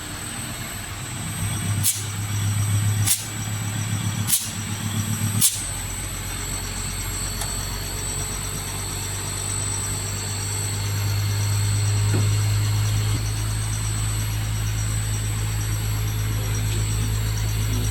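An air conditioner compressor under live PCB repair training kicks on with a low steady hum and drone that swells and holds, after several sharp clicks near the start, nearby and without speech.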